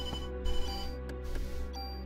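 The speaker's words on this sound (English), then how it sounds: "Why so many phone calls?" A telephone rings in the game Parasite Eve, a steady electronic ringtone with repeated pulses filling the short stretch over game background sound, with no one speaking.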